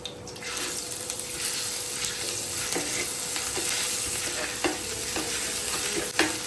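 Ginger garlic paste sizzles and fries in a hot pan, a steady crackling hiss heard up close with occasional stirring clinks and scrapes.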